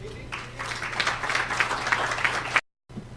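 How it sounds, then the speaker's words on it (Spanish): An audience at a public forum in Honduras breaks into steady applause, a dense patter of many hands clapping at moderate volume, cut off abruptly near the end. "le damos un fuerte aplauso"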